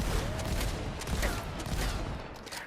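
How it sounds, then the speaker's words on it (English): Dense, continuous barrage of heavy gunfire and booming blasts from enemy giant cannons in the video game Tiny Tina's Wonderlands, loud and sustained with overlapping shots throughout. "they just blast the fuck out of you with their giant cannons"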